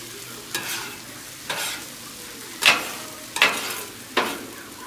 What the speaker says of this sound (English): while it's sizzling, it's still cooking